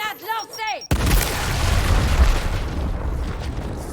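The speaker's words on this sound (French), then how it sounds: "Il va falloir une grenade au milieu de tout ça. Grenade lancée." A grenade blast in the video game Gears Tactics bursts suddenly after a short burst of game sound effects, and a loud booming rumble with scattered debris then rolls on and slowly fades.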